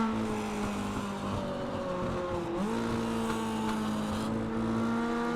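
An iRacing race car on a speedway track downshifts, its engine note dropping sharply, then climbs steadily in pitch as it accelerates out of a corner, loud and continuous with no talk.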